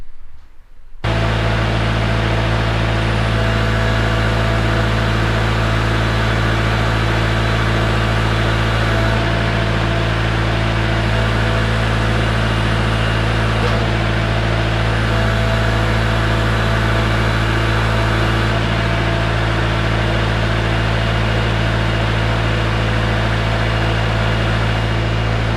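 A Kubota tractor engine fitted with a grapple idles steadily, a loud, even low drone with a constant hum that holds without a break throughout.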